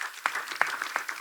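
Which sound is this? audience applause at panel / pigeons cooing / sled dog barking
audience applause at panel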